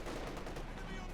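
Machine gun fire in Company of Heroes 2 during a 3v3 match on the Angermunde map, a dense continuous rattle of bursts that fills the whole moment, loud and close with battle noise behind it.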